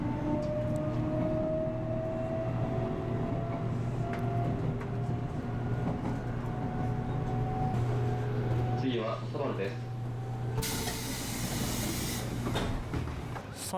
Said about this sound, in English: The 8:49 a.m. local train bound for Fukuoka.